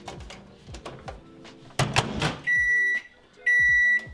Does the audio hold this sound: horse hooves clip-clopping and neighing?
no